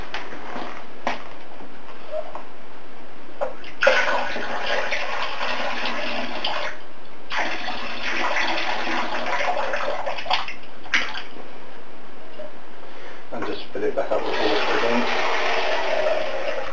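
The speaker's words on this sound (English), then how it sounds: "And then rinse it off." Nettle-dyed fiber being rinsed and swished in water, a continuous close splashing and running-water wash in several long bursts separated by brief quieter pauses.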